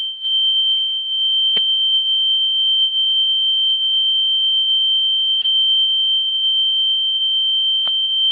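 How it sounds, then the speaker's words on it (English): A piercing electronic alarm beeps in a webinar participant's background, a loud, unbroken high tone with three sharp clicks spaced a few seconds apart and no talk over it. "Whoever's got that beeping going on in the background, it's piercing."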